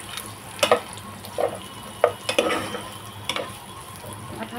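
Sliced onion frying in a pan over low gas for Maharashtrian prawn pulao, a steady soft sizzle with a few spoon scrapes and clinks against the pan, close and without voices.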